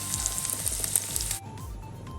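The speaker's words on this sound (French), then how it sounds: "On surveille la cuisson des lardons." Lardons of bacon sizzle and crackle steadily in a frying pan for a quiche Lorraine, a dense close hiss with popping spatters that drops to a quieter simmer partway through, with no voices.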